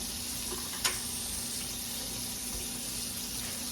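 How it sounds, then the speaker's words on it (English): Liver and onions simmering in a pan, giving a steady soft sizzle and bubbling hiss throughout, close and even, with one brief clink near the start. "just kind of let them simmer a little while with those onions"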